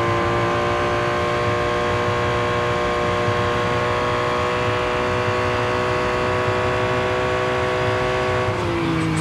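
Race car engine accelerating down a straight at Le Mans in Real Racing 3, a loud sustained high-pitched whine with rising harmonic tones holding steady, then shifting briefly near the end.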